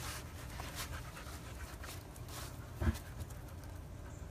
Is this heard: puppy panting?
yes